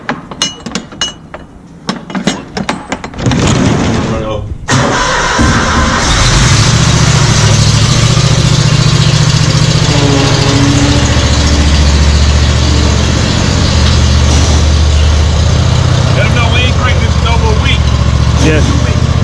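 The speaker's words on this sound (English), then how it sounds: "now we're gonna check to see if the mower crank" A lawn mower engine cranks over after a few clanks, then settles into a steady, loud, continuous idle that runs close by to the end, with voices faintly underneath.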